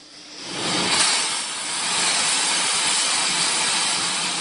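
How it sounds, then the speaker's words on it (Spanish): Dozens of antique engines run together inside an engine museum in Vista, California, near San Diego, producing a loud, steady broadband hiss and rumble with a slight surge, resembling steam venting, and no talking. "su sonido llena el Museo de Motores Antiguos en Vista, California"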